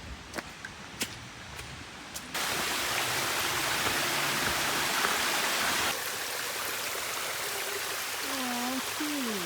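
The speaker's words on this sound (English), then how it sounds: "starting to hear the water" Rushing stream or waterfall water in Hawaii, a loud broadband roar that jumps in abruptly after a couple of faint taps and holds steady as the source is approached, with a brief faint voice near the end.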